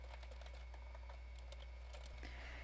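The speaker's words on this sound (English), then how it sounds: "Here I'm just going to type out a quick message." Quick typing of a short message on a computer keyboard, a soft run of light, irregular key clicks over a steady low hum, with no talking.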